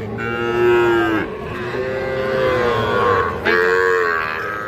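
A bull calf at a livestock market lows in loud, drawn-out moos, two long calls followed by the start of a third, close to the listener and with no talk over them.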